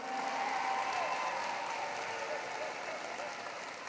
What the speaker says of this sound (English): Let's give them one more round of applause for Glasgow class of